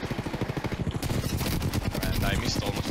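Rapid automatic gunfire from a shooting video game, a dense burst of loud, evenly spaced shots continuing for a few seconds, close and alone.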